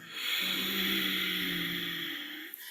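Long, hissing exhalation through a constricted throat, a Darth Vader-like meditation breath, close and steady for about two seconds before tapering off, with no talking.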